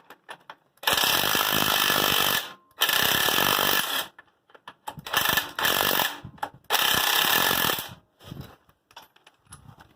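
Loosening a bolt on a Massey Ferguson corn planter with a power tool: loud bursts of whirring, rattling impact several seconds long, separated by short pauses, close and with no talking.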